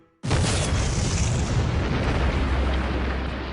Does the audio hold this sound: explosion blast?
yes